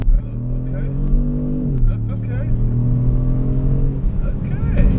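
A 2018 Kia Stinger GT2 AWD sports sedan accelerating hard, its engine revving up, dipping at a shift, then climbing again, loud and close from inside the car, with voices talking over it.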